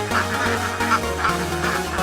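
A herded flock of ducks on village grazing land in Tirunelveli district, calling in repeated overlapping honks and quacks, close and fairly loud throughout without any voices.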